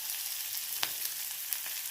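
Salted onions fry in a pan, giving a steady, even hiss of sizzling oil heard close, with a couple of faint soft clicks rising briefly above it.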